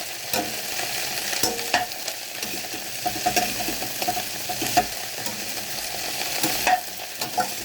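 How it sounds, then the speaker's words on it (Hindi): Cauliflower frying in oil over a low flame for gobhi sabzi, a continuous soft sizzle with intermittent scraping and clinking as it is stirred, close and steady. "हम गोभी को अच्छे से मिक्स कर लेते हैं ताकि जो ऑयल है वो पूरी गोभी में उसकी कोटिंग हो जाए।"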